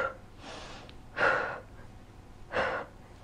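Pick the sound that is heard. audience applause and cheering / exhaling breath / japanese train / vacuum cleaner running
exhaling breath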